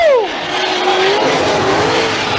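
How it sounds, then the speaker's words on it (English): Drift race cars at Formula Drift 2015 Round 2 in Atlanta, Top 16 finals, skid through a corner: loud, sustained tire squeal with a falling screech over continuous roaring engine noise. "Charles Ng tapping the brakes. Now wrapping it around."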